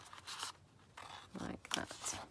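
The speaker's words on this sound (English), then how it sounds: "I'm just going to cut them out" Scissors cut out paper tags made from coloured scraps, giving several quiet, separate snipping and crunching bursts at close range with no voices.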